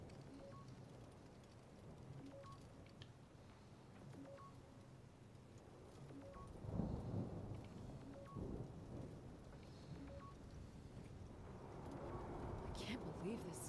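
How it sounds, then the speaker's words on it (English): Rain and low thunder rumble under steady background noise in the sci-fi game Return to Grace, with a swell of rolling thunder midway and faint repeating electronic beeps throughout. "I can't believe this storm."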